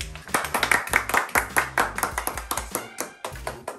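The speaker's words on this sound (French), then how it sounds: "Et je voudrais un tonnerre d'applaudissement pour le cadeau." Rapid, steady hand clapping from a small group at a French gift-giving event, close and lively, continuing throughout with little pause.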